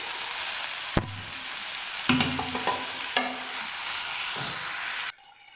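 Two chopped medium tomatoes sautéing in a pan with onion and ginger garlic paste for chana masala, a steady close sizzle broken by several spoon scrapes and taps, then a sudden drop to near quiet, no talking.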